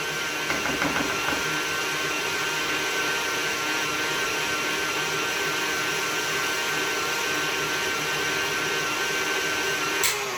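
An electric mixer whirs steadily and continuously while beating butter into mashed potatoes for shepherd's pie, a constant close drone with faint scraping, and no voices.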